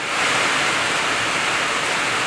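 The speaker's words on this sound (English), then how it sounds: "Now it's raining so hard" Heavy rain pours down at a Tamaron Bay seawall construction site, a steady, loud, unbroken hiss with no voices.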